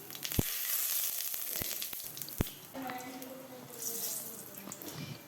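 Whole cumin seeds with two bay leaves frying in hot oil, a steady broadband sizzle broken by a few sharp pops and utensil knocks, with faint clatter and background kitchen noise partway through.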